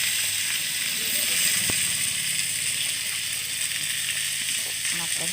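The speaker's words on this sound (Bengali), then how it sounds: "লাল লাল করে ভেজে নিচ্ছি" Fish frying in hot oil, a steady broadband sizzle that stays loud and even throughout, with faint kitchen clatter underneath.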